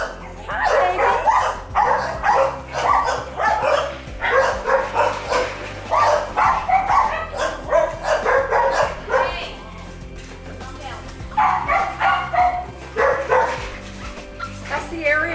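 Several puppies yip and bark in a pen, busy high-pitched bursts coming in clusters through most of the stretch, with someone talking softly over them at times.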